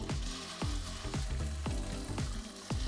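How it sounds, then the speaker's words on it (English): Steady loud sizzling of bacon-wrapped wahoo medallions frying in a hot pan, crackling continuously with occasional sharper pops and clatters. "You want to hear that sizzle."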